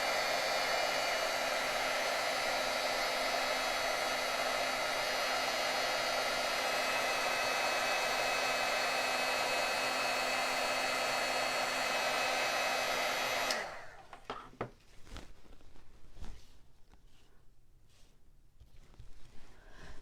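A heat embossing tool blows a loud, steady whir for about thirteen seconds while melting embossing powder over a Versamark-stamped image, then cuts off, leaving faint handling noises.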